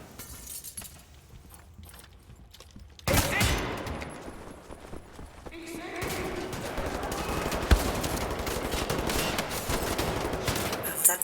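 Gunfire in the shooter game Wolfenstein: The New Order: after a quiet start, a sharp burst hits at about three seconds, followed by dense, continuing shots and crashing impacts, loud and close.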